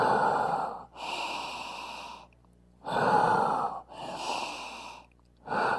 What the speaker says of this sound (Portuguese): vai inspirar e soltar pela boca